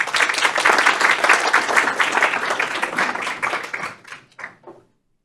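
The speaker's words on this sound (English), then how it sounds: "Let's give her a round of applause as we welcome her to the podium." Dense audience applause welcoming someone speaker to the podium at a CFA Institute investment research talk, loud and steady at first, then thinning into a few scattered claps before fading to silence.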